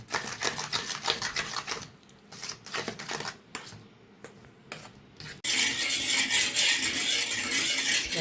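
Two eggs are beaten with grated raw papaya in a bowl: a rapid, close clatter of a utensil striking the bowl, with short pauses, then a sudden steady loud hiss for the last few seconds.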